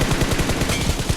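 Dense, rapid automatic gunfire in the BGMI (PUBG Mobile) mobile shooter game, loud and continuous, with closely packed shots that roll on without a break.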